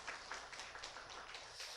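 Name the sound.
congregation applause for church choir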